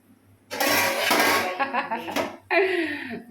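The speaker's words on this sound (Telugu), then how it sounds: "మూత పెట్టేసేయి" A metal lid clatters and scrapes as it is set onto a pot of cooking mutton curry, then a person speaks briefly.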